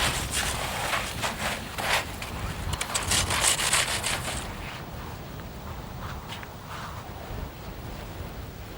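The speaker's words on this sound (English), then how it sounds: "You simply lock the blocks against each other and cut through" Rough, steady rasping of a saw cutting through packed snow blocks while building a shelter outdoors, dense and scratchy at first, then thinning into softer strokes, close by with no voices.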